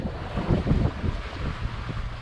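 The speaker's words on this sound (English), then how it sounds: "now we're gonna get a gust." A wind gust strikes a sailboat under way, a loud, blustery rush of air buffeting the microphone over water sloshing against the hull, rising and falling in uneven surges.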